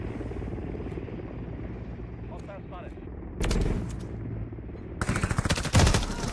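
A helicopter's rotor drones steadily in a PS5 shooter game, broken by sudden loud bursts of rapid gunfire toward the end.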